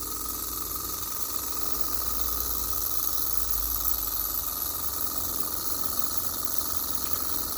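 An Okmo Microcosm J06G miniature Stirling engine from the Honeybee series runs steadily, giving a continuous hissing, whirring mechanical hum at close range with a slight swell midway and no talk.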